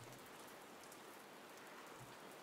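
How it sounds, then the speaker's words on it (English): Steady rain falling outside a window, a dense, even hiss of drops with no pauses, very faint and distant, with no voices. "you looked out at the rain"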